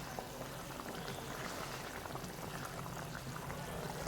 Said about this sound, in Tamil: குழம்பு நல்லா கொதித்து நல்லா சுண்டி வந்துருச்சு பாருங்கள்